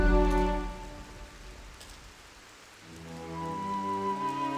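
Steady rain falls in the Discworld Noir video game, a continuous hiss of drops on stone walls that dips in the middle before building again, heard alongside a sustained tonal music bed.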